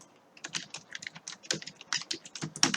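Quick, uneven keystrokes clatter on a computer keyboard nearby, short light taps in bursts over a couple of seconds with no voice.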